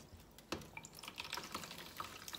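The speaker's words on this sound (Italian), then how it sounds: "prendo la spugnetta e vado a sciacquarla nella vaschetta" A kitchen sponge rinsed in a small basin of water holding vinegar residue, giving soft splashes, drips and light sloshing in a short quiet sequence, with one sharper splash near the start.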